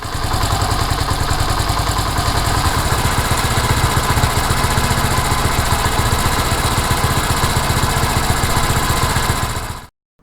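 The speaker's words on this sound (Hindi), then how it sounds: "इंजन आरपीएम अप डाउन होना शुरू हो जाएंगे और इस तरह साउंड करेंगे।" A Honda CD70 motorcycle engine idles loudly up close with a rapid, rattling chug, its idle speed surging from a carburetor mixture fault, then cuts off abruptly at the end.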